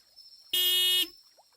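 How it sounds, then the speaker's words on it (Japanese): A single car horn honks once, a loud half-second blast that cuts off abruptly, with quiet surroundings before and after. "またクラクションが鳴った。"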